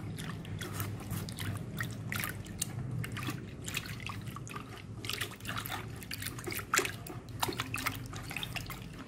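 Hands mix detergent and water in a container, making close, irregular splashing and dripping sloshes that repeat steadily at a soft level.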